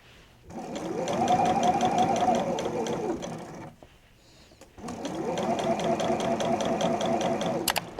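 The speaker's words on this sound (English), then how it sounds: "I'm going to sew this to the lining like this" A sewing machine stitches a jeans pocket to its lining in two long steady runs of rapid, even mechanical chatter, close and loud, with a short pause between them.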